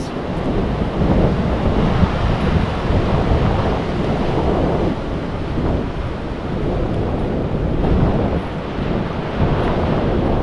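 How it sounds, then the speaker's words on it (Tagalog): Steady outdoor wind buffets the microphone with a continuous rushing roar, surging and easing slightly, with no voices. "Priskong prisko ang simoy ng hangin"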